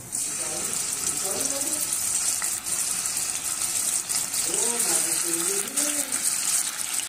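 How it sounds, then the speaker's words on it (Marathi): Paneer frying in hot oil with a spoonful of ghee, giving a steady, loud, close sizzling hiss that runs throughout, with a voice talking faintly over it at moments. "गरम झालं, आता आपण पनीर फ्राय करू।"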